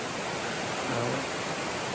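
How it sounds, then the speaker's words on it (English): A rushing stream tumbles over a small waterfall in Lumpkin County, making a steady, dense hiss of water that stays even and continuous throughout, with no voices. "I love this rushing stream, a little bit of a waterfall here"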